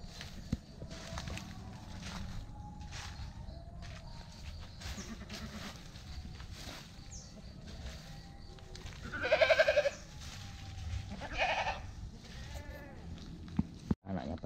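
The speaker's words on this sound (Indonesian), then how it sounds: "Oh, kambingnya." A goat kept for the Eid sacrifice bleats twice in a garden outdoors, two short, fairly clear calls over a steady background hum with faint rustling.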